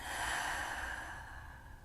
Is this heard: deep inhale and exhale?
yes